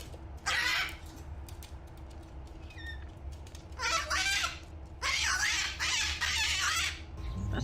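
A squawking bird, likely a chicken, lets out several loud, harsh bursts: one short cry early, then longer screeching outbursts in the second half, over a steady low background hum.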